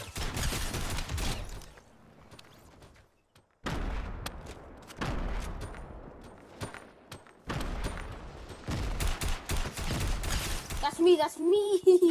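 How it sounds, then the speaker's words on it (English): Shotguns fire in a Fortnite match: loud, sharp blasts come in clustered bursts separated by brief quiet gaps, and game effects follow near the end. "How do shotguns do that much damage from that far?"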